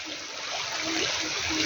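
A river running low after rain has stopped flows steadily and close, a continuous broadband rush of water with no talking over it.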